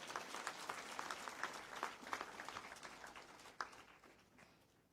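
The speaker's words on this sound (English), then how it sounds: "Can we give them a round of applause?" Quiet, scattered audience applause at a graduation-style ceremony, individual claps distinct and fairly distant, thinning out and fading toward the end.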